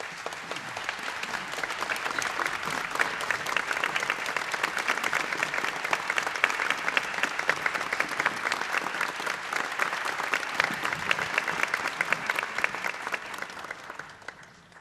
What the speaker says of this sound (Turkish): değerli şefimiz Vedat Kaptan Yurdakulu alkışlıyoruz efendim.